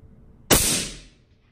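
A single sharp precision rifle shot fired at a 12-inch steel plate 525 yards away, close and loud, cracking abruptly out of near silence and then trailing off in a brief decaying echo.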